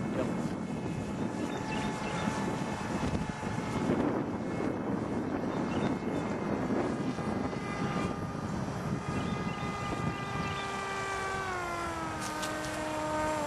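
An RC model F-117 aircraft driven by a propeller motor flies past, its steady whining drone holding loud and close, then sliding downward in pitch as it moves away.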